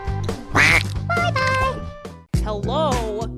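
Cartoon ducks quack in a rapid, bright string of exaggerated calls, loud and close, mixed with a musical, childlike vocal backing.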